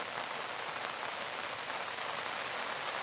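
Heavy monsoon rain pours steadily onto surfaces in open countryside, a dense, even patter and hiss that stays constant throughout with no voices.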